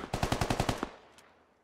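Gunfire in the video game Squad: a rapid automatic burst of about eight sharp shots in quick, even rhythm, followed by a fading echoing tail and one faint later crack.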